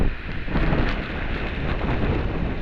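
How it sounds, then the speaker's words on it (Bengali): A dense, continuous roar of rushing, falling water from a waterfall in Iceland, broadband and steady, with gusty wind buffeting the microphone. "এই যে দেখুন কি অসাধারণ জল পড়ছে"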